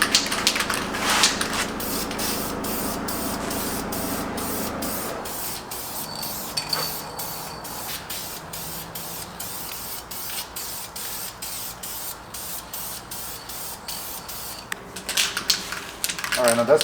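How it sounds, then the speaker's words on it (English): Spray can painting the grille surround of a 2022 Toyota Tundra, long hissing bursts of spray close up with short pauses and a rattle between, a voice talking faintly over parts. "Then I'll break the pieces up into 4 zones and paint those zones with a good overspray from side to side."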